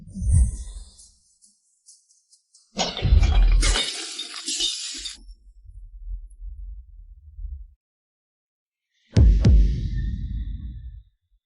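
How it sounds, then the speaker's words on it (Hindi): Several wine bottles smash accidentally indoors, with two separate bursts of breaking glass and clinking shards, loud and close, separated by a stretch of low rumble and near silence. "गलती से कुछ शराब की बोतलें टूट गईं।"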